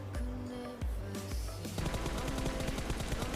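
Rapid automatic gunfire in the mobile battle royale game PUBG Mobile, finishing off a knocked-down enemy on the Erangel 2.0 map; loud, dense bursts of shots repeat steadily with no talk.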